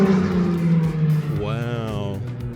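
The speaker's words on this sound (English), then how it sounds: "so far that thing sounds pretty good for a flat 6" A Porsche 911 GT3 (992.1) flat-six rises in a short, sharp rev over a steady idle rumble, with a person talking over it.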